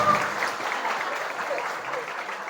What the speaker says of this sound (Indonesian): Tepuk tangan buat kakak kita yang bicara.